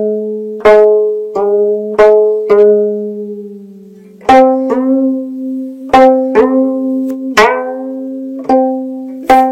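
Sanjo gayageum played solo: a string is plucked, then pushed and pulled by hand to bend the pitch, producing a series of distinct plucks with long, ringing decays, one note gliding to a new pitch partway through.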